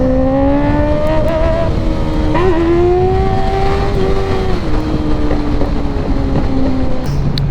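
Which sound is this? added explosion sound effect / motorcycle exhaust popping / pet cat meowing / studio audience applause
motorcycle exhaust popping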